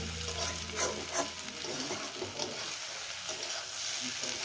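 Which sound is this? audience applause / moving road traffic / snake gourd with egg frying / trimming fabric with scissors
snake gourd with egg frying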